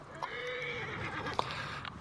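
Horse neighing in the Assassin's Creed Origins video game, a loud whinny with brief peaks over a busy game backdrop, with clip-clopping hooves and faint ambient voices underneath.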